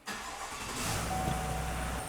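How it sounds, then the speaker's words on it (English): A GMC Sierra Denali with a 6.2L engine starts: a brief starter crank, then the V8 catches and settles into a rumbling idle that grows fuller and stays steady, heard up close. "All right, let's get the car started."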